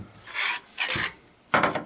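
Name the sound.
Remington 870 foregrip and bolt sliding forward out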